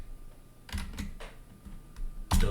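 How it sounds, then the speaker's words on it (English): Keys clack on a computer keyboard in a few separate near taps, ending in a louder cluster of strokes, with no voice over them. "here I'm going to type"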